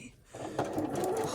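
A sewing machine runs a seam on a quilt, starting after a brief quiet moment and whirring steadily and close for the short remainder.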